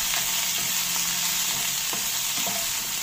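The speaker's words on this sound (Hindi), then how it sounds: "दोनों चीजों को डाल के हम इसको थोड़ा सॉटे करेंगे।" Vegetables sautéing in a pan with salt and black pepper for veg white sauce pasta: a constant bright sizzle with occasional stirring scrapes, close and loud, no talking.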